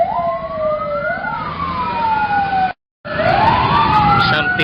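Fire engine sirens wail in rising and falling sweeps at a burning Padang restaurant in Ambon, loud and close with truck rumble underneath, cut by a short gap before the siren resumes.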